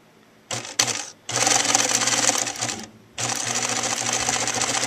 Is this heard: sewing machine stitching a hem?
yes